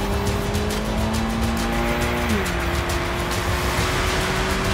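A rally car on a stage brakes hard with tire noise, then its engine note drops and climbs again as it accelerates at full throttle, loud and continuous.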